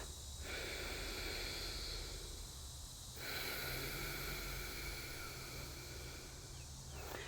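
Slow, deep breathing before flexibility stretching, heard close to the microphone as long, airy, steady inhales and exhales. The breath shifts between two long phases with a soft hiss throughout.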